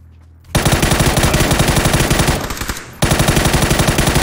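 Sustained automatic gunfire sprays in PUBG, loud and close, a rapid unbroken stream that halts briefly before resuming.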